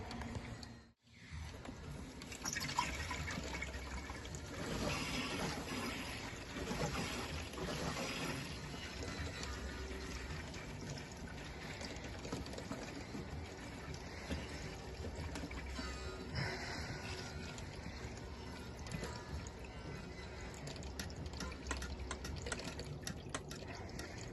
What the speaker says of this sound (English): you can hear the air flushing through this circuit now.